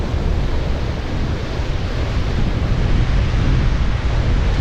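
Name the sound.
wind blowing by the sea while fishing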